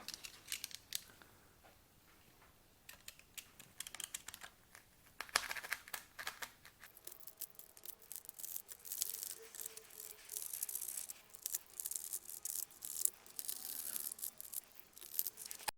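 A knife tracing and cutting through Kaizen foam for a shop drawer insert, faint scratchy crackling strokes in bursts over a quiet room, no talk.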